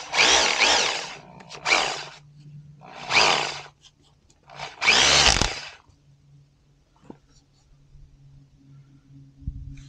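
Hammer drill drives a ground rod for a fence energizer grounding field: four loud bursts of harsh grinding hammering separated by short pauses, then quiet with a low steady hum underneath.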